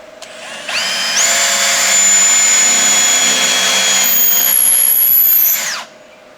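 A power saw spins up with a whine, then cuts steadily through a leftover piece of wood for garden trellis work, a loud close high-pitched tone that runs about five seconds before winding down.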